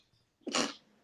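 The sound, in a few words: sneeze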